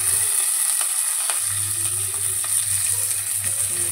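Curry leaves fry in hot oil with a loud, continuous close sizzle and crackle, briefly dipping before surging back with popping spatter, no talking.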